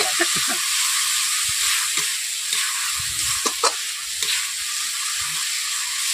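Spice paste sizzling in a wok, with steady frying hiss and repeated scraping clatter of a spatula stirring at irregular intervals.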